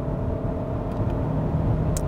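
Steady engine and road drone from a 2022 Hyundai Santa Fe with a 6-speed automatic, heard from inside the cabin as a continuous low rumble, with faint brief clicks that may be the paddle shifters.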